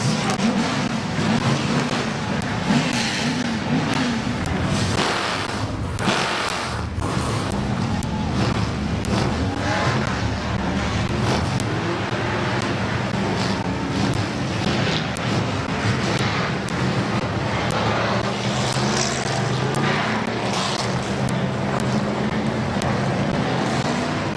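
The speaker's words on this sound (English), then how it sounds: "Drivers, start your engines." Race car engines roar continuously at a dirt-track speedway, a dense, loud, unbroken rumble of many cars running together, with faint crowd or announcer sound buried beneath.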